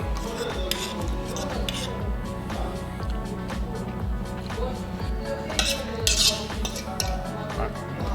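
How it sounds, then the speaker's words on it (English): Cutlery scraping and clinking against a kebab plate as sauces are spread over mixed kobeda and lamb at a Rusholme restaurant, repeated short metallic scrapes and taps at close range over steady background room noise. "What I'm going to do is going to scrape some of these sauces onto everything"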